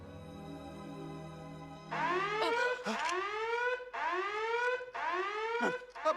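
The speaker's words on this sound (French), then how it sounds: "C'était mon alarme virginale." A comic spaceship alarm from the film Spaceballs blares in repeated swooping electronic wails, four loud rising-and-falling cycles after a brief lower hum, with no talking over it.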